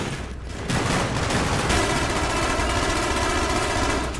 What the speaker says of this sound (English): With this SMG, I bring death!